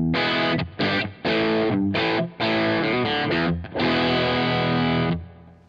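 An electric guitar plays through a TC Electronic Plethora X5 pedalboard with overdrive, strummed chords and sustained notes sounding thick and distorted, loud and alone with brief gaps between phrases.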